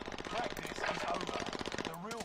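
Rapid automatic gunfire rattles through a Call of Duty: Warzone match, a dense stream of quick shots at moderate level with game effects and a voice mixed in.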